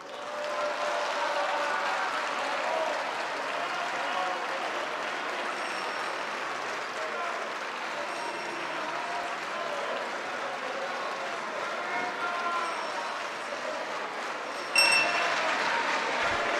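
Sustained applause in the Italian Senate chamber, a steady broad wash of clapping from many hands lasting throughout, with a brief sharper burst near the end.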